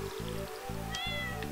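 A cat in the farming video game Stardew Valley gives several close meows in a row over a soft, trickling water ambience and background game music.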